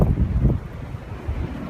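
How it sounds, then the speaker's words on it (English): Strong gusts buffet the microphone outdoors in low, rumbling surges, loudest in the first half second and swelling again near the end, with no voices. "Wow, it's too windy."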